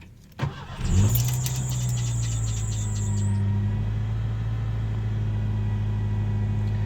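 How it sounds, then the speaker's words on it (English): A 1988 Ford Ranger XLT with a 2.3L engine cranks briefly and starts, then settles into a steady idle. A faint, constant whine from the failing power steering pump sits over the engine hum, with no talk. "First thing you'll notice is just a little bit of sound from the power steering pump."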